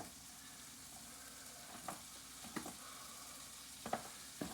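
Butter sizzling in a pan, a faint, steady frying hiss broken by a few soft clicks and scrapes, with no talk.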